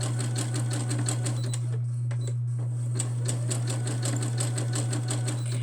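A home sewing machine stitching with a steady motor hum and rapid rhythmic clicking, briefly faltering partway through before it picks up again, no voices.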